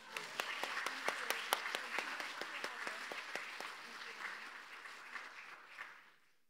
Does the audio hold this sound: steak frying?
no